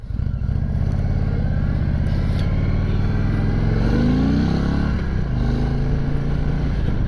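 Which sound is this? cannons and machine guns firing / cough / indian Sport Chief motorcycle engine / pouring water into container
indian Sport Chief motorcycle engine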